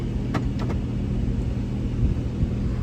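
A Ram ProMaster van engine runs at a steady low idle while being shifted into gear, close and continuous, with a few faint clicks and thumps early on and no talk.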